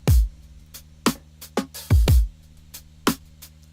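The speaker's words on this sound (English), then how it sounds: "what I've done is just taken a simple drum loop" A simple drum loop plays alone: punchy kicks and sharp snare hits in a steady, sparse rhythm, close and clear.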